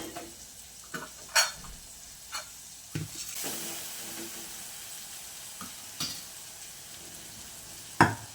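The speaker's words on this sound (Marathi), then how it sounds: "इकडे वरण तर छानपैकी फोडणीला घातलं" Dal poured into a hot, sizzling tempering in a kadhai, with soft frying hiss, a few stirring scrapes and clinks of a utensil against the pan, close and moderately quiet.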